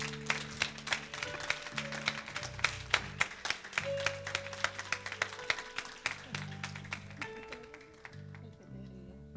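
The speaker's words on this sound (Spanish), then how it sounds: "Vamos a darle el aplauso al Señor." A church congregation claps along in a steady rhythm with music in the background, the sharp claps repeating evenly until they thin out near the end.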